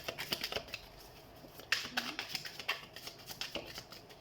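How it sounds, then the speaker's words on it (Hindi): Tarot cards being shuffled by hand, a run of soft papery riffles and flicks in quick irregular bursts, close and moderately quiet with no talking over them. "तो सबसे पहले हम कार्ड शफल कर लेते हैं।"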